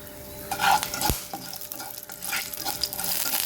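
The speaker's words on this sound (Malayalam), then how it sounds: "പച്ചമുളകൊക്കെ പോകുന്നവരെ ഇളക്കി കറിവേപ്പിലയും കൂടി ഇട്ട് കൊടുക്കാം" Green chillies and curry leaves sizzle and crackle in hot oil in a pan, with a spoon stirring and scraping through them, a steady close frying hiss for a few seconds with no talk.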